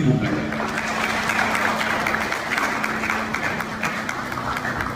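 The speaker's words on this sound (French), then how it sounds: "je vous demande de l'ouvrir par un chaleureux applaudissement, s'il vous plaît" Warm audience applause opening a student congress general assembly, a full hall clapping steadily and fairly loudly for several seconds, with a faint voice and room murmur underneath.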